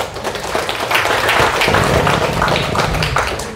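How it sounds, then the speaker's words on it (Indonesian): Audience clapping for the Dayak Ahe people during an Islamic talk, dense sustained applause that stays fairly loud throughout. "Tepuk tangan buat Dayak Ahe Pak"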